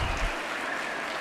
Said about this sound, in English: We give a big claps to the people.